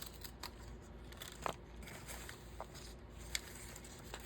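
Scissors fussy-cut paper images for a collage, giving soft, irregular snips and paper rustles at a low level against a steady background hiss.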